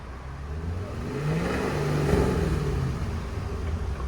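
2006 Ford Mustang GT 4.6L V8 with exhaust valves closed driving off, a muffled engine note that rises as it accelerates, peaks, then eases while moving away.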